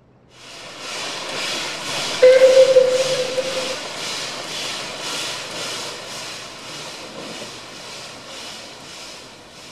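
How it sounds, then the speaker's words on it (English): A steam train whistle shrieks as the locomotive passes a crossing, a single sustained tonal blast cutting above the steady rhythmic chuffing and rolling rumble of the moving train. "The whistle shrieks as we pass a crossing"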